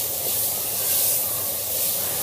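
Minced meat (keema) frying in oil with onion and tomato, giving a steady close hiss and sizzle that swells slightly midway and carries on without any voices.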